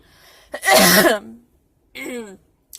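A sharp, explosive cough burst, then a shorter second cough after a pause, close and loud with no talking.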